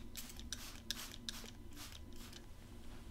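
A small spray bottle puffs fine mist into hair several times in quick soft bursts, close and quiet in a hushed, whispery setting.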